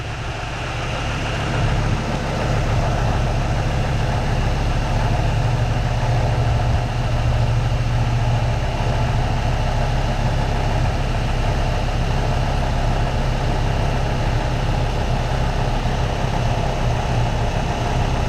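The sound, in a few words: car engine idling with serpentine belt and pulleys running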